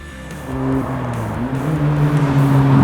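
An Ariel Nomad 2, fed through a six-speed close-ratio manual gearbox, accelerates hard. Its engine note climbs loud and close, dips briefly at a gear change, then rises again with steady road roar underneath.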